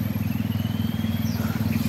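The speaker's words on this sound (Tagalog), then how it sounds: "Yan, motor na naman oh." A motorcycle putters past with a low, rapid, pulsing engine rhythm at moderate distance, steady across a brief moment with no talk.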